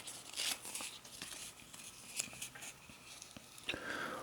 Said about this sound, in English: So I'm just going to rip off on the end here.